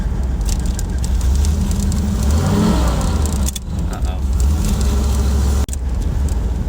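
Car engine revving with a failing 700R4 automatic transmission that slips into neutral, a loud steady engine drone rising and falling through the clip with road noise and a brief dip near the end.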